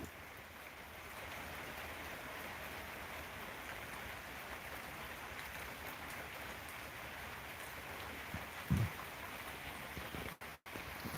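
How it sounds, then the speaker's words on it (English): Steady rain falling in the woods at an Alaska homestead patters softly and evenly throughout, a constant hiss with a faint thump and a couple of brief clicks near the end. "I love listening to the rain."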